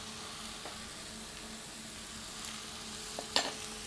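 Butternut squash cooking in a pan sizzles steadily and quietly, with a couple of brief utensil knocks near the end as it is stirred.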